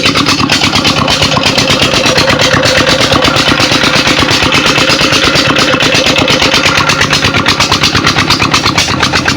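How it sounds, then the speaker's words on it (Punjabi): A loud tubewell pump engine in a farm field runs steadily with a fast, even thumping rhythm, close by and unbroken throughout. "ਇਹ ਪੀਟਰ ਤੇ ਇੰਜਨ ਲੱਗਾ ਹੋਇਆ ਹੈ, ਟਿਊਬਲ ਪੀਟਰ ਚੱਲ ਰਿਹਾ"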